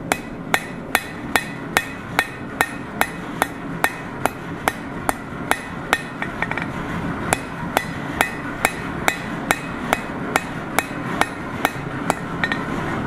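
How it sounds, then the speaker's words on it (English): A blacksmith forges a hot iron hook with the peen of a hammer, striking an anvil in a steady, even rhythm of roughly two loud, close, ringing blows per second, with no talking. "we'll take one more pass with the peen of the hammer"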